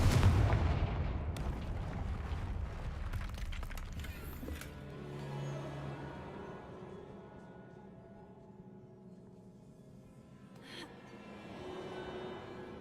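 Confringo blasting spell from the Hogwarts Legacy game, a loud booming explosion at the start that decays into rumbling debris and a long fading game-world tail, with a smaller thud near the end.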